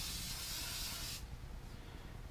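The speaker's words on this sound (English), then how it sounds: "Spray a little bit of glue on there." An aerosol can of spray glue hisses in one steady, fairly quiet burst over a trash barrel while a wooden spoon is being made, then cuts off into a low room hum.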